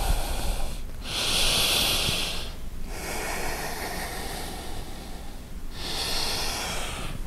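Slow, steady breaths from a yoga instructor, drawn in and let out in long hissing waves with short pauses between them, close and fairly quiet.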